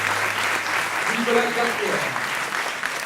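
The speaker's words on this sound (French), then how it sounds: "vous pouvez déjà l'applaudir." An audience at a French research showcase event applauds steadily as a doctoral student candidate walks up. The applause is a continuous clapping wash under a presenter's voice.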